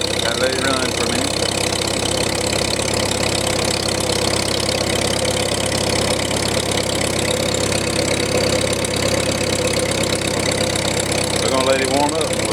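A 1951 Farmall C tractor engine idles while warming up after a cold start, a loud steady mid-pitched chugging that runs throughout, with brief voices over it.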